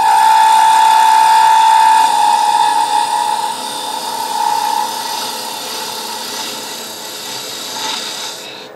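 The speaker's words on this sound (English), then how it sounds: "And just chamfer the edge there just because I can." Metal lathe chamfering the edge of a cone live center, a steady close grinding rasp with a sustained high whine that eases and settles as the cut goes on, no talking.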